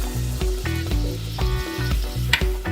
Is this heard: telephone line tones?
no